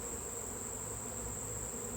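Honey bees hum in a faint, steady drone during a honey harvest, a constant thin buzz with no voices.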